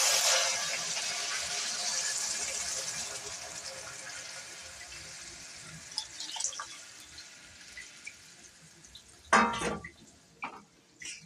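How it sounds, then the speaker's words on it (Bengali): Cornflour slurry is poured into chilli chicken gravy, a soft pouring wash that fades out, followed by a few brief bubbling and splashing sounds near the end. "কর্নফ্লাওয়ারের জলটা দিলাম।"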